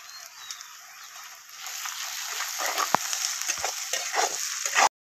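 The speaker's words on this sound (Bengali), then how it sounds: "পেঁয়াজটা আমার লাল লাল করে মোটামুটি ভাজা হয়ে গেছে" Steady frying sizzle from a pan with a few sharp clinks of a spoon stirring, no voices.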